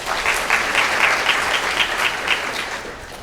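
Lecture audience clapping in response to a question, a brief burst of many hands with a rhythmic, slightly pulsing texture that tapers off.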